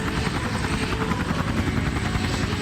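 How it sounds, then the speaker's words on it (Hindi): Helicopter flying close overhead in a forest setting, a loud continuous rotor roar with rapid chopping pulses that holds steady throughout. "तभी हेलीकॉप्टर की आवाज आने लगी।"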